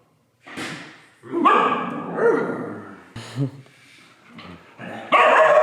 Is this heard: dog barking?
yes